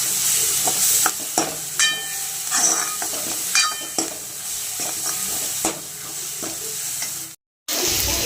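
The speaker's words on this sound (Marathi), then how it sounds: "आता हे आलं लसूण तेलात व्यवस्थित परतून घ्यायचं" Ginger and garlic with a little turmeric sauté in hot oil, giving a steady close sizzle broken by repeated spatula scrapes and stirring clinks, with a brief silent gap near the end.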